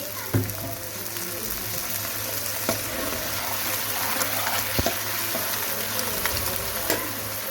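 Water poured into a pan of light-brown frying onions for an egg masala fry sets off a steady, loud sizzle, broken by a few sharp clatters of utensil against pan.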